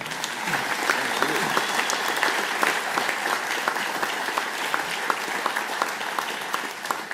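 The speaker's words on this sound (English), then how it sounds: "A big round of applause to Premier Ford." Applause rises for Ontario Premier Ford at an announcement event in Brampton, a sustained, fairly even clapping from a gathered crowd with scattered sharper claps, continuing without talk for several seconds.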